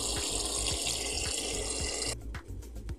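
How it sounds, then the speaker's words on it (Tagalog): A steady stream of water from a tap pours into a pot of chicken feet with a loud, continuous gush, then stops abruptly, leaving a few faint drips. "lagyan natin ng tubig."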